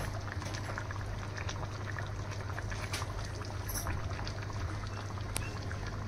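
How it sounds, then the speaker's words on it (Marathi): A pan of wet cashew vegetable curry simmers, giving a steady low bubbling with small pops and gurgles that continue evenly throughout, close by and moderately loud, with no talking. "उकळ पण छान येते."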